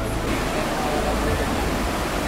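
Flash-flood water surges near Bunsuran Falls, making a loud, steady, broadband roar of rushing torrent that fills the whole stretch without pause, close and unbroken.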